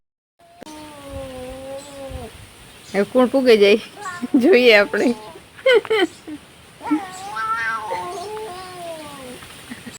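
A cat meows repeatedly, close by, in drawn-out wavering cries, with people talking over and between the calls.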